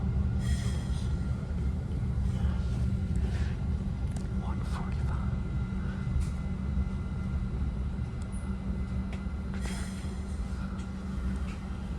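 A southbound Caltrain local commuter train pulls into Mountain View Station, a steady low rumble and rolling hum heard from inside the car, with faint squeaks and clatters on top.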